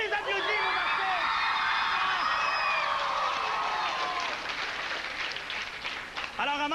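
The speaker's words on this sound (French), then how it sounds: "On les applaudit, vos artistes!" A crowd at a 2005 anti-gala show cheers for the artists, with high whoops and shouted voices over a wash of clapping that swells and then thins toward the end.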